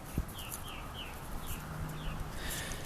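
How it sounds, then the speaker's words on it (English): Purple martins calling faintly in the background outdoors: a few short chirping call notes scattered through the clip, distant and quiet over a low steady ambient hum. "you might hear the Purple Martins in the background"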